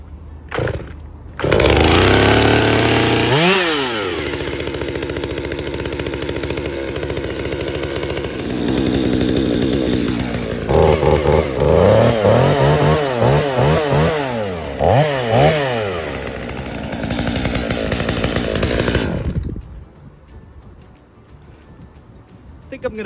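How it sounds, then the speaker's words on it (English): A chainsaw cuts up a fallen tree for firewood, the engine roaring loud and close for most of the stretch, pitch dipping and rising as the chain bites into wood and revs back up, then cutting out near the end. "when I'm cutting it, the saw is throwing crap my way"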